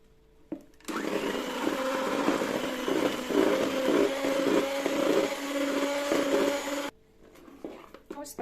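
An electric mixer beats cake batter with oil for about six seconds, starting and stopping abruptly, its motor whirring steadily with pitch wavering slightly.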